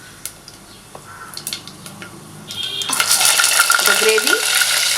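Whole garam masala spices drop into hot oil in a cooking pot, starting with light clinks and scrapes of a spoon, then a loud sizzle that builds and holds while the spices are stirred, with metal clatter over the frying.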